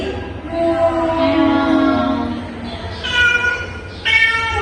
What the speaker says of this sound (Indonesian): Suara apa lagi? Kucing.